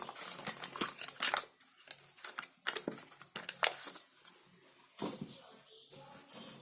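A black Canon Pixma 47 ink cartridge being removed, with a busy run of plastic clicks, taps and crinkling handling noises in irregular bursts, close and fairly quiet, with no talking.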